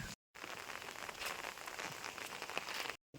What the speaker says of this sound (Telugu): ఏం సడన్గా పడింది వర్షం మాత్రం అయితే